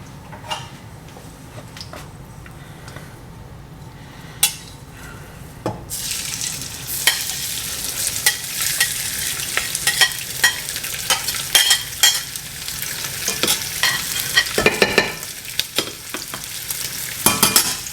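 Sausage frying in a pan for orecchiette with broccoli rabe, a quiet sizzle that turns into a loud, bright crackle halfway through, with repeated scraping stirs and knocks close by.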